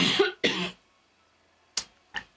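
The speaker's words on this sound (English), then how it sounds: "I'm going to cough now." Two loud close coughs in quick succession, then a short silence followed by two smaller, sharper coughs near the end.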